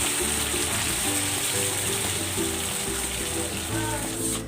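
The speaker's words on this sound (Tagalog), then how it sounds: "Maglagay tayo ng tubig para lumambot yung ating pork" Water poured into a pan of marinated pork, a steady splashing gush heard close up throughout, fairly even in level, with faint kitchen clatter underneath.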